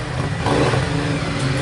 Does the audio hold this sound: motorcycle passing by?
yes